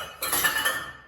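Spoons, knives and forks clinking and rattling together in the cutlery basket of a Midea dishwasher, a short bright metallic jangle close up with no voices.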